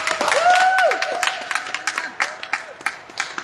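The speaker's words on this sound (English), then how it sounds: "Give her a big round of applause." Scattered applause for Marvina Haynes at a press conference demanding Marvin Haynes' release, with sparse individual claps that thin out over a few seconds after an opening voiced cry or whoop.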